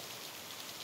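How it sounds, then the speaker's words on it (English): Rain falling outdoors in Oregon, a steady dense hiss of drops without pause, soft and even, with no talking. "I hope you guys don't mind the rain."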